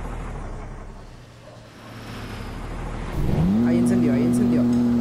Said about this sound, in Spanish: Aquí este carro enciende.